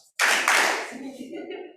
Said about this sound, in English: 2 claps.